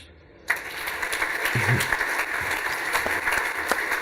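An audience at a National Mining Day event breaks into applause after a sudden onset, sustained clapping of moderate loudness continuing steadily with a few sharper individual claps standing out.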